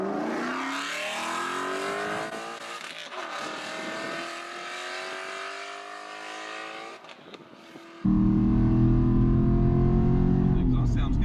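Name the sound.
car engine revving, exhaust sound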